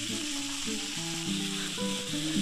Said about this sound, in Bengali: এবার কেটে রাখা টমেটোগুলো দিয়ে দেব। টমেটোগুলো দিয়ে ভালোভাবে কিছু সময় নেড়ে নেব।